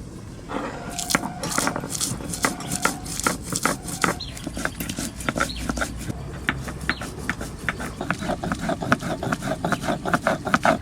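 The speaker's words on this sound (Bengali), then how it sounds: "ভাজা মশলাটা এবার বেটে নেব" Fried spices are ground into a paste on a grinding stone for a katla fish dish, giving steady rhythmic scraping and thudding strokes that run for the whole stretch, close and moderately loud.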